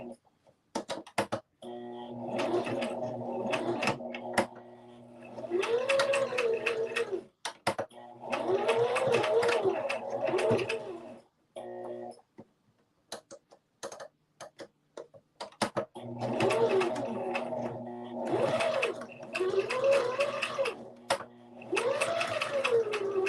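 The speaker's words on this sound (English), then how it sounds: "I just turn my dial here, and it's going to be a zigzag stitch now." A sewing machine runs a zigzag stitch on fabric for a handmade hair scrunchie, whirring and ticking in several bursts separated by short pauses as the seam goes back and forth, close and clear, with no talking.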